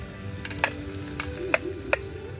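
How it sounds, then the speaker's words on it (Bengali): Vegetables fry in oil on a high-power burner at a riverside campsite, a close steady sizzle broken by a few sharp clicks and stirring scrapes. "এটা একটু ভেজে, আগে ভেজ মালটাকে ভাজ"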